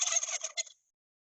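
A turkey gobbles in one loud, rapid warbling burst lasting under a second, close by and alone, then cuts off to silence.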